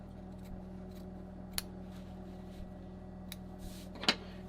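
Scissors trimming excess collar facing fabric on a blouse, a few faint, sparse snips over a steady low room hum, with one slightly sharper cut near the end and no talking.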